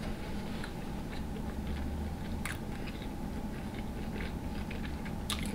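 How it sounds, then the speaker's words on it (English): Close, steady wet chewing and crunching of king crab legs at a seafood boil mukbang, with occasional sharper cracks of shell standing out over a continuous low mouth noise. "So much chewing."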